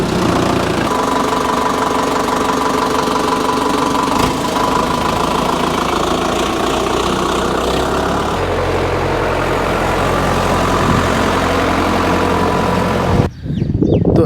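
A farm tractor engine runs loud and close, a steady low chugging idle with a knocking rhythm held for about thirteen seconds before it abruptly cuts out, with no talking.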